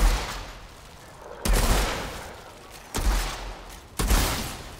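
Bursts of gunfire in the video game Outriders, three loud volleys hitting at intervals with lingering noisy tails, no voices over them.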